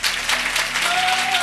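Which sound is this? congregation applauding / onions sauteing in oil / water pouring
congregation applauding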